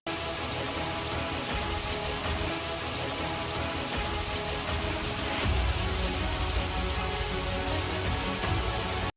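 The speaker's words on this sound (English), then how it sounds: "Rain pouring down from one side of the sky, while the other side stays clear and calm" Heavy rain pours down steadily as a dense, constant roar of drops striking surfaces, with no voices and a slight swell in intensity partway through.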